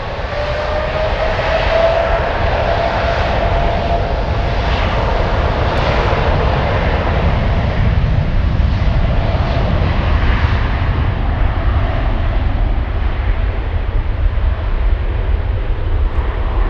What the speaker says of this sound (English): this is Eastern Flight 707 on its way to Addis